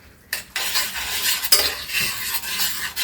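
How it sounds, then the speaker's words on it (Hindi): Lasagna sauce with sugar, oregano and black pepper cooks in a pan while a spoon stirs it continuously, a steady scraping swish over a soft simmer, close and fairly loud, with no talking. "ऐसे चलाते हुए थोड़ा देर पकाएंगे"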